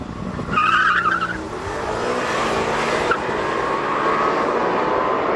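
Lamborghini Temerario and Ferrari SF90 launching off the line in a drag race, with loud engine roar and tyre wheelspin squeal rising at the start, then a sustained strong engine drone as the cars pull away.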